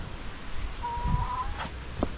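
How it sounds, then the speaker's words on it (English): Farm chickens cluck a few times at a modest distance outdoors, the calls brief and fairly faint over quiet background noise, with no one talking. "chickens are back in all together"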